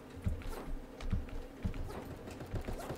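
Donkey hooves clip-clopping in the video game Super Animal Royale, a fairly quiet, regular series of soft hollow thuds repeating about every second.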